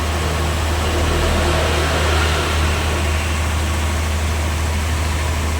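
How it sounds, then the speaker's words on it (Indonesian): Forklift engine idling at a sawmill where logs from Mount Bromo are cut into furniture boards, a steady low droning rumble with broadband mechanical noise, continuous and fairly loud. "Forklift datang lagi"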